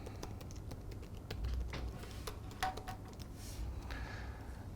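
A password is typed on a computer keyboard: a quick, light, irregular patter of key clicks, fairly close and moderately quiet, over low background hum, with no speech.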